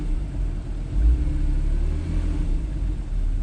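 A Porsche 911 Carrera 4S 997 Gen 2 flat-six DFI engine idles with its sport exhaust switched off, giving a steady, fairly muted low rumble with one brief deeper swell, no voices.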